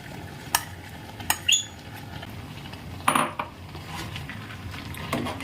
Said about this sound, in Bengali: সবজিগুলোর মধ্যে সাবুগুলো দিয়ে ভালো করে মিক্স করে নেব